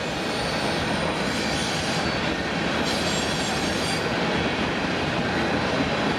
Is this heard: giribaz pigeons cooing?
no